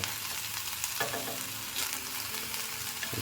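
Meat and onion frying in a pan, giving off a steady, close sizzle with a brief stir partway through and no talking.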